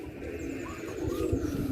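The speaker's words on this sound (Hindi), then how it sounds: "और आगे कबूतर हैं और नस्ल के।" Pigeons of several breeds cooing softly at a farm, low murmuring calls repeating steadily with faint chirps from other birds in the background.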